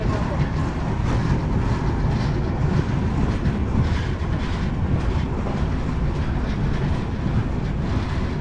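Sagardari Express intercity passenger train at Ishwardi Junction, heard as a steady, loud rumble of rolling wheels and rail noise with faint clatter, continuous throughout with no pauses.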